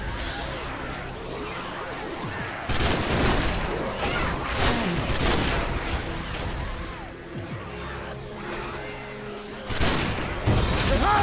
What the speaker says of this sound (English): This shotgun will put the hurt on them zombies.